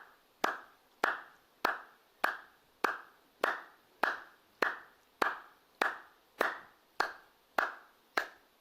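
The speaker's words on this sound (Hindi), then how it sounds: "ताली बजाने का ये आखिरी तरीका है" Hand clapping done as a health exercise: a steady run of about fourteen sharp, close claps at an even rhythm of roughly one every two-thirds of a second, each with a short ringing decay, no talking.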